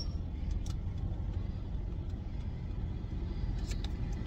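A car engine idles just after starting, a steady low rumble close by with faint higher clicks and whirs over it, fairly constant throughout.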